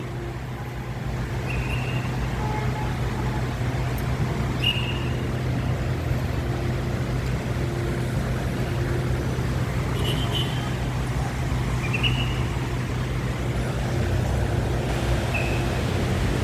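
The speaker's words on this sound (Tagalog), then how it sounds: "sumisikip na yung mga sasakyan dito sa harap ng ano, Robinson Supermarket oh" Congested vehicle traffic crawls along the road outside GT Mall in Molo, Iloilo City, in heavy rain. A steady rumble of engines continues throughout, with occasional short horn beeps, heard at a moderate distance.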